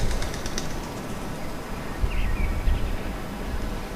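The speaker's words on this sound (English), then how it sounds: "One of the pigeons suddenly takes off." A wood pigeon takes off with a flurry of flapping wings close by, heard over steady outdoor background noise with no talking.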